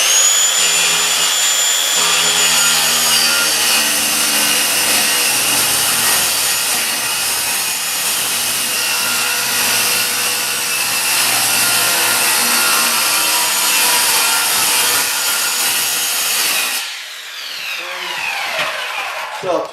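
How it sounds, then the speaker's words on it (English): A power saw makes a plunge cut into wood during a mobile home front door replacement, whining loud and steady at close range for about seventeen seconds before spinning down. A voice speaks briefly near the start. "Another plunge cut."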